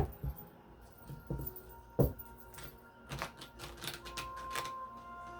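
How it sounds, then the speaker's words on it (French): Tarot cards being cut and shuffled by hand, giving a run of close, irregular papery snaps and flicks with brief louder slaps, no talk over them. "Je vais aller couper, je vais brasser, je vais couper"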